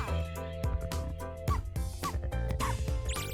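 Game audio from the rhythm game Rift of the NecroDancer carries synthesized dog barks and yips over a beat-driven music track, with brief talk mixed in.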